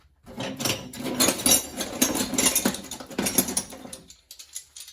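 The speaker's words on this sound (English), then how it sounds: "Got a whole bunch of vintage wrenches, including several S-shaped wrenches." Vintage wrenches, including S-shaped ones, rattling and clinking as they are handled from a marketplace haul, a busy close metallic clatter for about four seconds, then a few lighter taps.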